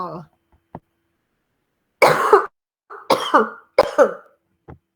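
Several harsh coughs in quick succession, close and loud, with brief silences between them and a short bit of Indonesian speech at the start, during a lecture.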